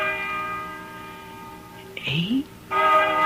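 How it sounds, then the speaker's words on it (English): A deep church-style bell tolls slowly in a spooky old-time radio mystery drama, its long ringing strokes sustained and resonant, broken briefly by a rising whoosh before the bell resumes; no voices over it. "Listen to that bell."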